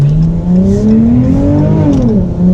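A V6 Dodge Challenger engine revs up loudly and close by, its pitch climbing and wavering as the car strains to accelerate with its tires spinning.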